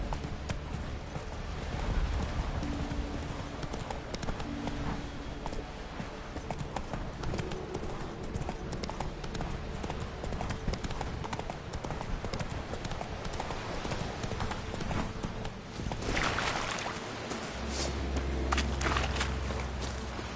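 Roach the horse's hooves clip-clop steadily on the ground in The Witcher 3, a continuous brisk rhythm of hoofbeats close by, with a brief louder burst near the end.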